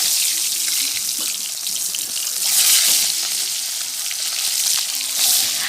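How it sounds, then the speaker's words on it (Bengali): Four salted, turmeric-coated boiled eggs fry in hot oil in a kadai, giving a steady, dense sizzle with soft crackles throughout. "আমি ডিম 4টে ভেজে নিচ্ছি।"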